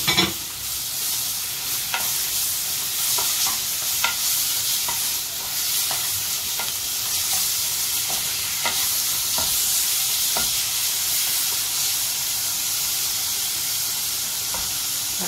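Chili powder frying and sizzling in hot oil for a Sri Lankan tin fish curry: a steady, close hiss of frying runs throughout with scattered small pops and the scrape of stirring, and no voices.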